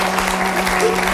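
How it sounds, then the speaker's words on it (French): Studio audience applause on a French television talk show, a dense burst of clapping filling the short moment. "Bravo, on l'applaudit."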